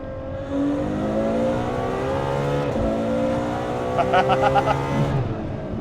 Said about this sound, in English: It's a hell of a feeling to ride the red line of a V12.